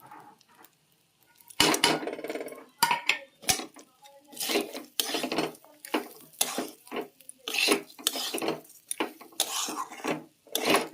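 A spoon stirs cashews, raisins and carrot through a pulao pan, with repeated clattering scrapes and knocks against the metal in an uneven rhythm, close and fairly loud, after a quiet start.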